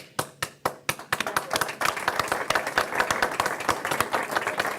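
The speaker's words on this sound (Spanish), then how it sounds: "Tenemos al aplaudidor en jefe Jorge" Applause in a Spanish-language podcast studio: sparse, loud claps at first quickly build into a dense, steady round of close clapping that continues to the end with no talk.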